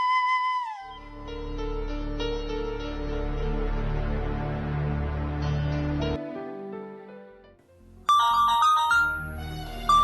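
A phone ringtone plays a sustained electronic melody, pauses briefly, then starts again with a brighter, higher-pitched tune.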